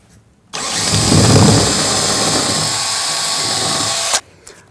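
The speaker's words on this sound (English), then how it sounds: "take this 5/8 of an inch size drill bit and begin drilling out the" A power drill with a 5/8 inch bit bores mounting holes for a Juno Trac-Master lighting track, one continuous loud whirring, grinding run of about three and a half seconds that starts abruptly and stops cleanly.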